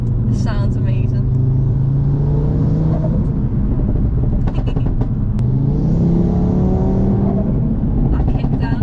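Modified 700bhp Audi RS3 kicking down a gear and accelerating, a loud, close engine roar rising in pitch with gear changes, heard from inside the car with people talking over it.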